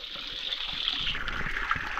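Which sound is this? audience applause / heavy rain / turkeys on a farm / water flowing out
water flowing out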